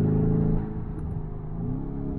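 Lamborghini Urus engine rumbling as the SUV accelerates on a mountain drive, a deep throaty roar that eases briefly then climbs again in pitch, heard from inside the cabin.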